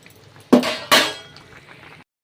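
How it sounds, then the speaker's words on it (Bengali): Tengra fish dropped into a pot of boiling bottle-gourd broth: two close, splashy plops a moment apart, each trailing into wet sizzling and bubbling before quieting down. "ঝোলটা কিন্তু ফুটে গেছে, এবার আমি মাছগুলো দিয়ে দেবো।"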